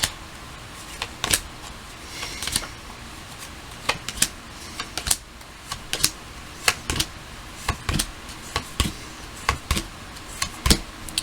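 Tarot cards snap and slap down one after another as they are cut and dealt, sharp, irregular clicks, some in quick pairs, over a quiet room.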